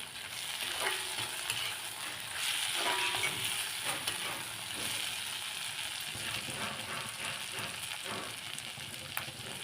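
Onion, tomato and garlic sautéing in a pan for peanut chutney, giving a steady close sizzle with soft scraping stirs throughout and no voices.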